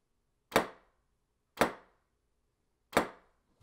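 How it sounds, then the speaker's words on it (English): Three rifle shots fired with a foam-filled suppressor attached, quieter, duller cracks spaced about a second apart, each with a quick decay and silence between. "And this is the sound with the foam suppressor attached."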